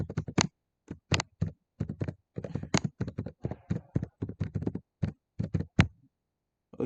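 Quick bursts of keystrokes on a computer keyboard, close and fairly quiet, with short pauses between typed runs and no talking.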